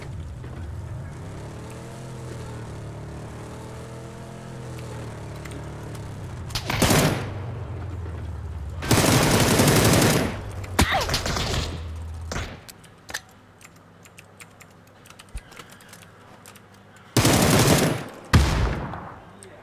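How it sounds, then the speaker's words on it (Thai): Gunfire from enemy players in the PUBG battle royale game, arriving in several loud, dense bursts of rapid shots separated by quieter gaps, with a steady low engine-like hum underneath. "มันยิงผม เออ ย ิ งผม"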